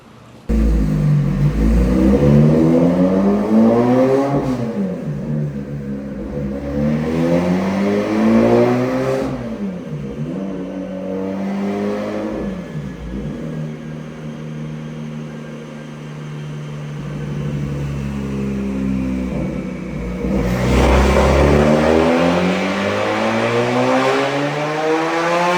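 A supercharged Lotus Evora GT engine revs repeatedly on a dyno. Loud, close engine tones sweep up and down in waves, drop off briefly around the middle, then climb hard again near the end, with no voices.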